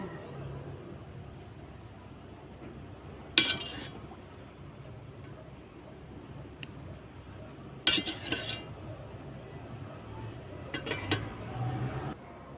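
Dishes and cutlery clink in short bursts as dipping sauce is set out in a cup beside a plate of pork shumai in a home kitchen, with a low steady background hum between the clatters.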